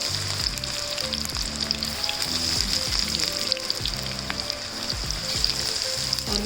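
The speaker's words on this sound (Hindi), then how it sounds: "ये सरसों का तेल ही मैंने इसमें डाला, उसी के साथ ही मैं चिप्स बनाऊंगी।" Potato chips for finger fries bubbling and sizzling in hot mustard oil, a dense continuous frying hiss with soft popping, close and steady throughout.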